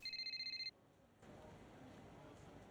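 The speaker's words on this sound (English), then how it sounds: "Oh, we got a phone call." A phone rings in the F1 25 racing game with a clear electronic trill, a rapid pulsed burst lasting under a second, then cuts off into quiet background ambience and a soft rise of room tone.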